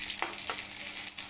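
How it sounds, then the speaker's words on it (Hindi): Onions sizzle in hot refined oil, a steady close frying hiss broken by a couple of quick stirring scrapes over a brief moment, with no voices. "अब इसमें रिफाइंड मेरा गर्म हो गया, अब इसमें हम लोग प्याज को डाल देते हैं।"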